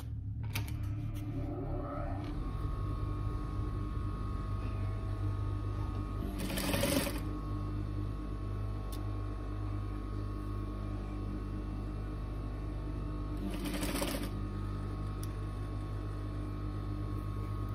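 A sewing machine runs continuously while stitching a seam with a one-centimetre allowance, a steady close mechanical whir holding level throughout, with two brief louder bursts partway through.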